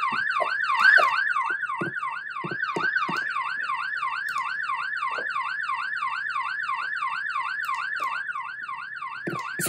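Rapid wailing electronic siren, like a police car's, cycles steadily and loudly through the whole stretch during a family pretend-play game at home, with a few short thumps underneath.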